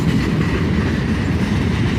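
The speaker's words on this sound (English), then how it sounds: "a bunch of rail boxes and some gondolas finally bring up the end of this train." Freight train of boxcars and gondolas rolling past at close range, a loud continuous rumble with rhythmic wheel clatter on the rails and no voices.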